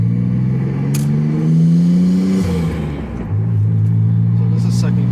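1994 Mitsubishi 3000GT VR-4, a 20T build, accelerating hard in second gear from inside the car: loud rising engine drone that climbs in pitch, briefly dips at a shift-like break, then pulls again, with voices talking over it.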